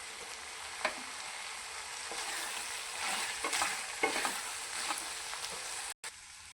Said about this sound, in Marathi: आता यामध्ये थोडासा शेंगदाणा कूट टाकून हलवून घेऊया